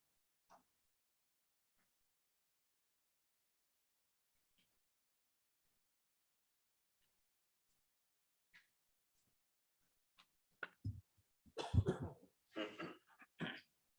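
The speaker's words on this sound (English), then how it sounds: "Making me cough." A few short coughs and throat-clearing sounds near the end, after a long stretch of near silence with faint clicks.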